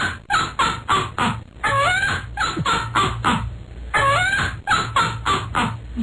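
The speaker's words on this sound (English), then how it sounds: "How about a minor bird laughing?" A mynah bird's laughing call plays as a sound effect, a loud series of rhythmic, cackling bursts that rise and fall in quick repeated phrases with brief pauses between.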